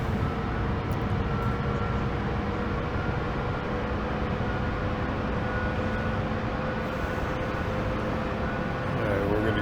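Huey helicopter engine in the game DCS, throttle down, a steady loud droning hum with constant tonal whine across the whole stretch.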